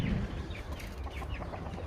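Chickens clucking in short, scattered calls over a busy outdoor background, moderately close, with no speech.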